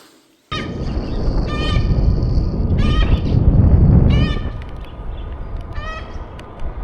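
A caged bird gives a series of loud, harsh calls in short bursts, near at hand, over a steady rumble of wind or traffic along the coastal road between Fort Bragg and Sonoma County, California.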